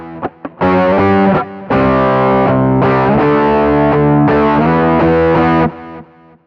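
Electric guitar through a Boss GT-1 multi-effects unit with the EQ high-mid band set at 4 kHz, strummed in sustained distorted chords that ring out in several bursts, loud and close with no talking.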